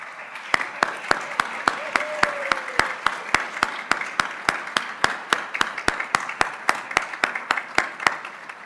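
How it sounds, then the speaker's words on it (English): Applause at a university employee recognition ceremony, heard as soft, steady crowd clapping with sharp, evenly spaced single claps or taps standing out in a regular rhythm throughout. "Please stand as you are able and accept your applause for 15 years here at Washburn."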